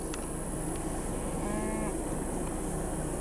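Cattle at a sale lowing in one drawn-out moo midway, set against a dense, constant wash of background noise.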